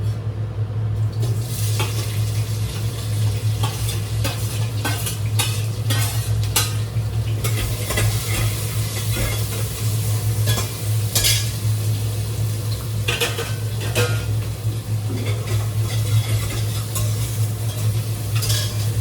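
Cumin seeds sizzling in hot oil in a frying pan as a spoon stirs them, a steady loud crackling hiss with repeated scraping and clinking of the utensil against the pan, no talking.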